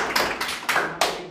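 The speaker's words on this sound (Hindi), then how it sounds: "ताली मारिए।" Students in a classroom clapping together, four uneven bursts of hand claps from a group, fairly close and moderately loud.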